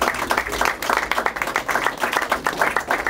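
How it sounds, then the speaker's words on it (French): A modest audience claps for a competitor at a piping awards ceremony, with uneven, pulsing hand claps at moderate loudness that continue steadily throughout. "On peut l'applaudir."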